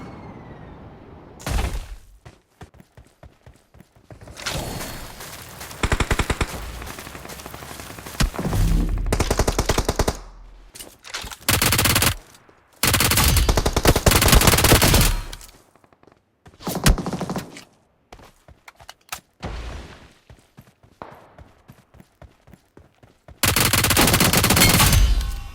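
Machine gun fire in the mobile battle-royale game PUBG Mobile: repeated loud automatic bursts and sprays, some long and sustained, separated by short quiet gaps, with no talk.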